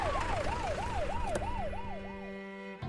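An ambulance siren wails in a film scene, its rapid rising-and-falling cycles repeating steadily and loudly over a background hum, with no talk.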